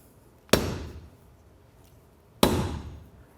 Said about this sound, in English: Use a rubber mallet or a dead blow hammer to drive the nylon spacer into the bottom